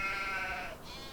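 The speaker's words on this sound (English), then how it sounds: "So here is our sheep." A single sheep bleats in Farming Simulator 25, a drawn-out nasal cry that fades toward the end, heard alone with no talking.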